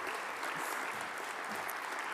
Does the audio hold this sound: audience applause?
yes